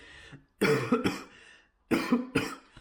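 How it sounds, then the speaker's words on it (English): Two harsh, loud coughs close by, each a quick burst of a few hacking pulses, separated by a short pause. "got a cough now"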